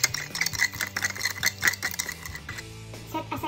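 A spoon stirs sugar into rice vinegar in a small container for baked sushi, giving a run of quick light clinks and scrapes against the vessel, close and fairly soft, with no talking.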